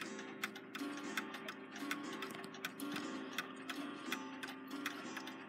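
Steady ticking from a Seth Thomas 8-day American striking mantle clock with a conventional regulator setup, close and clear, with evenly spaced sharp ticks throughout and no voices.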